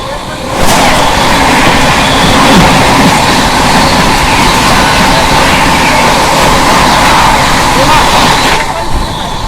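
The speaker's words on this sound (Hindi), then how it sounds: "तो यहाँ पर अभी अपनी क्रॉसिंग होने वाली है 12302 नई दिल्ली हावड़ा राजधानी एक्सप्रेस के साथ।" A Rajdhani Express passing on the adjacent track during a crossing, heard from aboard a moving train: a loud, sustained roar of wheels and rushing coaches that begins abruptly and fills the whole span before cutting off near the end.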